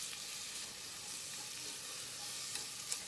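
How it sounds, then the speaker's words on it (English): Onions being stir-fried over medium-high heat for Japanese nikujaga, a steady, close, crackling sizzle with light stirring scrapes throughout and no voices. "Get the onions nicely stir-fried,"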